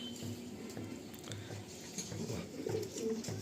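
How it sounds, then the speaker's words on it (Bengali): A male pigeon coos in a loft of show pigeons, repeated low throaty coos in a steady rhythm, close and fairly quiet, with faint rustling. "এই একটা নর পায়রা দেখুন"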